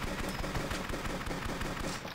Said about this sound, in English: Submachine gun ain't helping me.